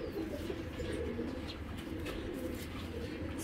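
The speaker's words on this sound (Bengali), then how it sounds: "এটা হলো একবারে বিডার কবুতর, বাচ্চা নেবেন শুধু" Racing pigeons cooing close by, low soft rolling coos that run continuously under a faint background hiss, with no talking.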